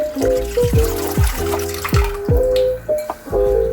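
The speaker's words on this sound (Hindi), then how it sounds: "तो सबसे पहले एक कढ़ाई में मैं थोड़ा सा पानी डालूंगी।" Water splashing and dripping into a kadai as it is filled to boil macaroni, with a series of close, ringing droplet plinks that fall in pitch, arriving in uneven bursts.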